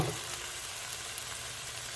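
Peppers and zucchini fry in a pan with a steady, close crackling sizzle that stays even throughout, with no talking.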